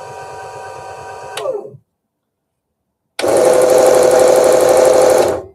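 A new mini table saw motor whines steadily for about two seconds at close range, goes silent, then restarts with a loud, dense buzzing roar lasting over two seconds before cutting off.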